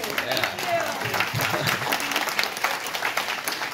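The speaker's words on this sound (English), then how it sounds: "a huge round of applause for all you guys for coming today" Guests at a gathering clap in a lively round of applause, mid-level and continuous, while voices speak over it.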